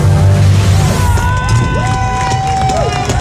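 Hearts high school football fans cheer and shout loudly in the stands after the EHS vs Mahomet Seymour game, a dense crowd roar with whoops and whistles rising and falling throughout.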